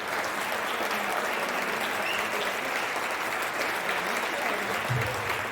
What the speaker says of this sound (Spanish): Fuerte, fuerte el aplauso para Vicente Cunio.